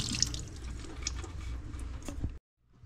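Water runs over a laser-engraved bamboo board under a tap, a steady splashing and dripping rinse close by that stops abruptly near the end.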